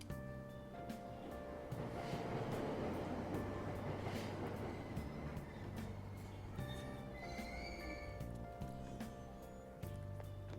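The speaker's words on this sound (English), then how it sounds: "It's to just hop on a train and we just ride the train all day long" A train ride from the Persona 5 video game plays as a continuous rumbling rail hum with periodic clickety-clack and a faint tonal whine, steady and moderately loud throughout.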